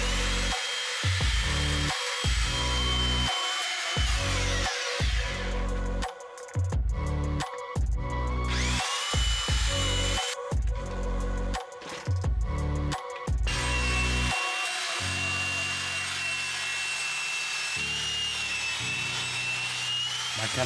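A belt sander works over a wooden console table, whining steadily in long passes that are broken by short pauses and then start up again. It sounds close, and nobody speaks.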